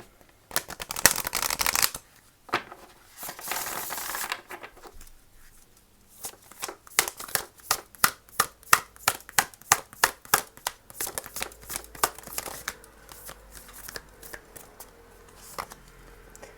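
A Moonology oracle card deck being shuffled by hand, with close, crisp bursts of riffling and rapid clicking card flicks that come in uneven runs, some dense and some in separate snaps.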